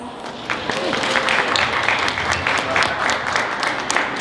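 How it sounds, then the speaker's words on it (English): Audience applause breaks out for a speaker at a talk on building a sustainable future at work, a dense steady wash of clapping that swells after the first half second and holds, with some voices mixed in. "give Lisa a round of applause"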